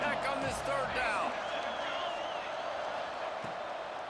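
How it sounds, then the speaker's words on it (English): Stadium crowd roar from EA Sports College Football 26, with a Texas Tech home crowd on third down: a steady, loud wash of cheering and whistles for about four seconds. "Guns up, and so is the noise. The crowd electric trying to help Tech on this 3rd down."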